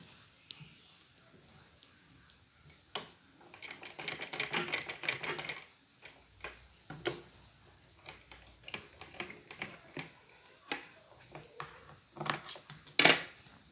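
A sewing machine stitches fabric in a tailoring class, giving quiet, uneven bursts of rapid mechanical ticking and clatter with short pauses, close by in a calm room.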